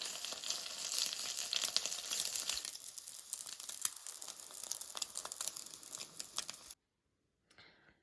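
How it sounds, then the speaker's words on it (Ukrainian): Crepes dipped in beaten egg frying in oil in a pan, a loud bright sizzle that softens into intermittent crackling and popping, then cuts to silence before a brief faint return. "Налисник обмакую в яєчній суміші і обсмажую з обох боків"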